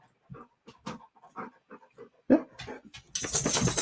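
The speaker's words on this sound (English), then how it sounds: "He's a food loving doggy." A pet dog whimpers and pants in short breathy bursts, close to the mic, before a loud rush of broadband noise takes over at the end.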